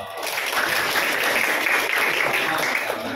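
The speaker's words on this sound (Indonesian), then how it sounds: "Kita beri aplaus dulu dong." A group claps in steady, dense applause for a classroom teaching-practice session. The clapping is loud and close, and it holds evenly for the whole stretch.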